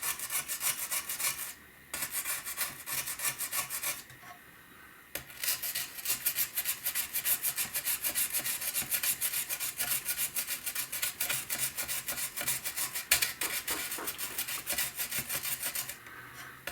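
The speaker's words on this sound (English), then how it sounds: "this is a spot sanding pen" Spot sanding pen scrubbing real fiberglass on a broken circuit board from a 33-inch Hantarex Polo arcade monitor, a close, steady rasping scratch in rapid strokes, pausing briefly twice, with no talk.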